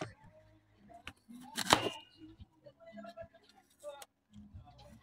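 Knife slicing an apple into cubes for salad in a kitchen, a few quiet cuts with one louder crisp chop in the middle, under soft background sounds.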